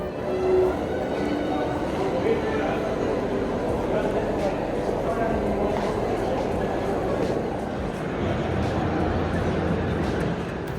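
Busy indoor crowd ambience in a large Manhattan train station, with many overlapping voices and a steady low rumble, constant and fairly loud throughout.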